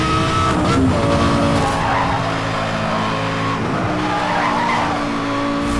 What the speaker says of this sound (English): although Lamborghini cars are more meant for grip, but still the Gallardo has quite good drifting